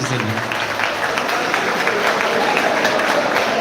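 Continuous clapping from a seated audience at a B.Tech passing ceremony at a maritime academy, steady and moderately loud throughout with no break.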